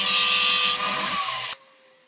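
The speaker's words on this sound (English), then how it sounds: "we'll quickly grind them off" Power grinder cutting off metal parts of a hand-made Scottish T-bar key, a loud, close, continuous abrasive whine for about a second and a half that stops abruptly and leaves a faint hum.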